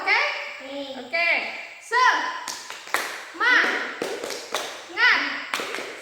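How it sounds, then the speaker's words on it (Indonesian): A group of children claps a rhythmic spirit clap in bursts of quick claps and taps, chanting and shouting along in time, close and lively. "Kita tepuk semangat, oke?"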